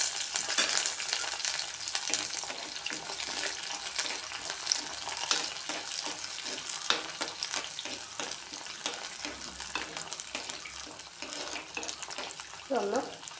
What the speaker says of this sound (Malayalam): ചെറിയുള്ളി വറ്റൽമുളകൊക്കെ നന്നായിട്ട് മൂത്ത് വന്നിട്ടുണ്ട്